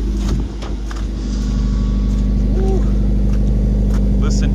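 A 2.0-liter Mazda engine running after a cold start with an aftermarket exhaust, a steady low rumbling idle that holds loud and close throughout, with a brief bump near the start.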